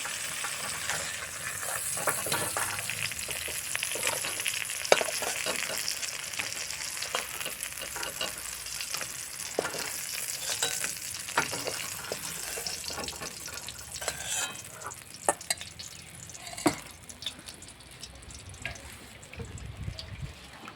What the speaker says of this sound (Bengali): সিমগুলোকে লবণ হলুদ দিয়ে ভেজে নিলাম